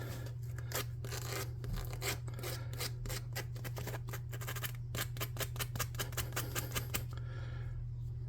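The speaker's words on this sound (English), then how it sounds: "And then I'm going to get a sanding block." Rapid rhythmic scraping of a sanding block over a surface, many quick strokes in a row, close up over a low steady hum.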